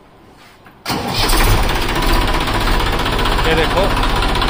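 A 40 HP tractor engine cranks and catches, then settles into a loud, steady, rumbling idle nearby while someone speaks briefly over it.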